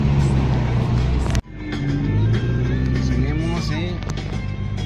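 Road traffic in Jalisco at mid-morning, heard from inside a moving car: a steady low engine and tyre rumble with a brief dropout, and someone talking over it.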